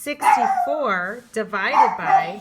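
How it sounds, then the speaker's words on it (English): A pet dog in the room gives a run of whining, yelping barks that rise and fall in pitch, loud and close, overlapping a person speaking. "please quiet my dog"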